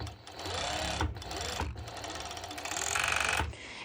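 Serger stitching the sides of high-waisted ruched bikini bottoms with added elastic, a fast close mechanical whir with brief dips and restarts, loud and without talk.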